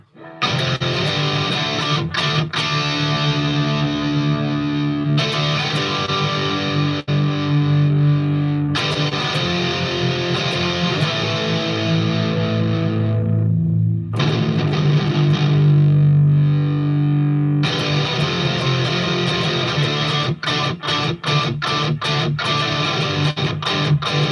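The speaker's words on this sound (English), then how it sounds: "We're going to add a low octave" A heavily distorted electric guitar through a Headrush rig plays continuous thick riffs with a low octave effect added underneath, loud and dense, with brief choppy muted strums near the end.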